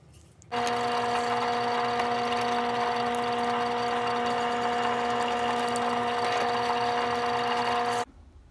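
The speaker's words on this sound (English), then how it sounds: "All the holes are drilled, no problems." A drill boring holes in a metal faceplate for a scratch-built guitar tube amplifier runs as one steady, loud, high whine. It starts abruptly, holds an even pitch for about seven and a half seconds and then cuts off, with no voices.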